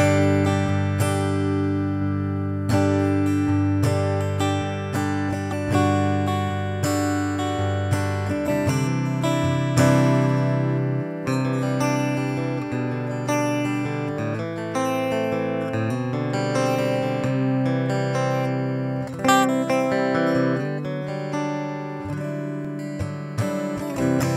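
Acoustic guitar tone from a Line 6 Helix acoustic simulation with parallel compression switched off, playing continuously with strummed chords and picked notes, full and even, with no voices.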